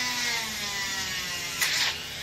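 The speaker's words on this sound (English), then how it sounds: "this is a high-speed hobby tool" A high-speed hobby rotary tool drills into a peach pit, a thin steady whine with a short gritty burst as the bit bites, up close.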